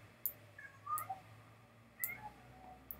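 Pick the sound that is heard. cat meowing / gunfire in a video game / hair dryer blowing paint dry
cat meowing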